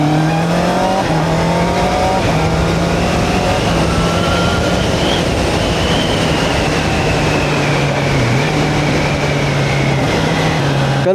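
A sport motorcycle rides under steady acceleration while shifting without the clutch through a quick shifter. A loud, continuous engine drone fills the clip, its pitch climbing and dropping in steps at each gear change, with no talk.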